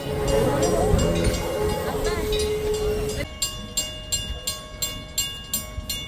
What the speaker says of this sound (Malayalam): നമ്മളുടെ കനേഡിയൻ നോർത്തേൺ ട്രെയിനും അതിൻ്റെ യാത്ര പൂർത്തിയാക്കി നമ്മളുടെ റെയിൽവേ സ്റ്റേഷനിലേക്ക് വന്നു ചേരുന്നുണ്ടായിരുന്നു